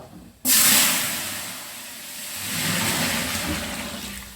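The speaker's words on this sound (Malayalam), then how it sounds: "വെള്ളം ഒഴിച്ചു കൊടുക്കും." Measured water is poured into a hot pot of ghee and whole spices for biryani rice, bursting into a loud hissing rush that settles into a steady bubbling sizzle, close up.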